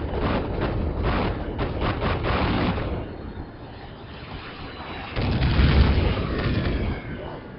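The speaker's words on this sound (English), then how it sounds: "Coming in on rockets and cannon." Rockets and cannon from an air strike in the Project Reality desert battlefield game pound in quick repeated booms, then fade to a rumble before a louder, heavier barrage returns.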